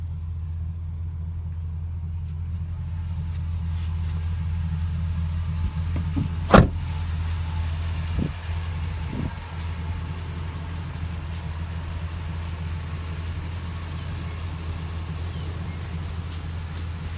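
The 5.7 liter V8 of a 2007 Dodge Ram 1500 Mega Cab 4x4, in like-new condition, idles with a low, even rumble from inside the cab, interrupted by a single sharp click.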